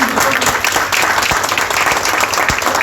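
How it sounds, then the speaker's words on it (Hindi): An audience at a cancer care seminar and awards ceremony claps loudly and steadily, dense applause filling the whole moment with no speech over it. "तो एक बार तालियां तो बनती है भैया।"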